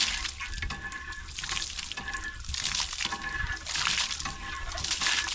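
Water drains steadily from the weep hole of an old abandoned windmill, a continuous close splashing trickle with gentle surges and no voices.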